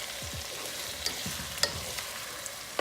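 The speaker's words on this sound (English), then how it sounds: "Now I add the tomatoes" Tomatoes sautéing in a pan with cooked vegetables for sambar, a low steady sizzle with a few faint utensil clicks and scrapes, quiet and close.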